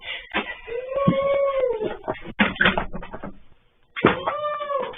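A dog lets out drawn-out, wavering howls mixed with whimpers and short yips, in close, loud bursts separated by a brief quiet gap.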